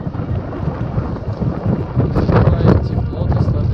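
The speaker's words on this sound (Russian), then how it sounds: "Очень сильный ветер." Very strong wind buffets the microphone outdoors in Kamchatka, with a view toward Vilyuchinsky volcano. It is a loud, continuous roar that surges and gusts harder in the second half.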